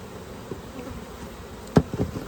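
Honeybees buzz around an open hive during an inspection, a low steady hum with a few close passes and a sharper brief buzz near the end.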